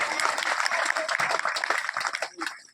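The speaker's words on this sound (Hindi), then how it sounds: "जोरदार तालियों के साथ आप उनको आमंत्रित करिए।" Audience at a village poetry gathering clapping enthusiastically, a dense, close burst of hand claps that keeps going throughout, with some voices mixed in beneath.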